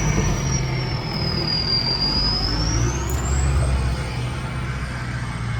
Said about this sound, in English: Here comes the big Navara. See if he can conquer the mountain that Mossy couldn't.